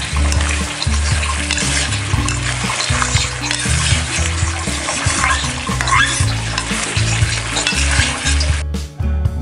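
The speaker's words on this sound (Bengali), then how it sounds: "এখন আমরা আগে থেকে ভেজে রাখা আলুগুলো দিয়ে দেব এবং ভালো করে মিশিয়ে দেব।" Pre-fried potatoes get stirred into mutton curry in a pan: loud, close sizzling with constant scraping and knocking of the spoon on metal, ending in a brief lull.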